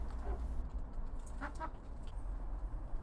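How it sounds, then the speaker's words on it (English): A Sulmtaler bantam hen gives a few soft clucks around the middle, faint against steady low outdoor background noise. "just coming in is Sally Ann. She is our Sulmtaler bantam"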